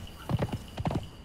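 A horse's hooves clip-clop in a short quick run of steps during riding in the video game Conan Exiles, fairly close and moderately loud.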